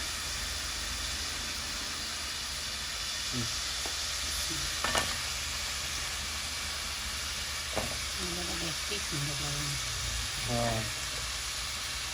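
Radish added to spice paste frying in a pan gives a steady, moderate sizzle and hiss, with a few utensil clinks and brief faint voices in the background.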